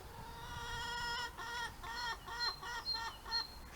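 Chickens cluck in a run of short, harmonic calls, moderately close, with a few brief pauses between bursts.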